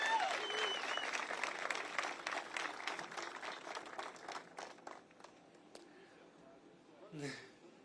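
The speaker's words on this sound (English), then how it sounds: "Give her another round of applause." Applause for Lisa after her performance at a US-Canada bridge celebration, a crowd clapping fairly strongly at first, then thinning into scattered claps with a brief voice near the end.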